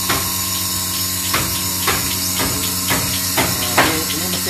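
A goat milking machine on an Etawa goat farm pumps suction, giving steady mechanical hissing and humming with regular pulsing clunks about every half second, close and fairly loud, no voices.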